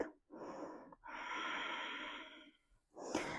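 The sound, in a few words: breathing during a yoga routine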